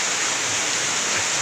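Typhoon rain pouring on and leaking through the old, holed roof of a pig pen on a Philippine farm, a loud, even hiss of falling water with no talk.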